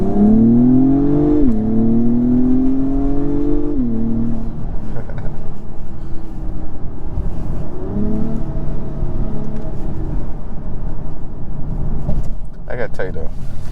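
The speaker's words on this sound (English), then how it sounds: "Honda Acura knows how to tune their engine" A 2022 Acura TLX Type S engine pulls hard and near, its pitch climbing through two gear changes before settling into a steadier hum while the car keeps rolling.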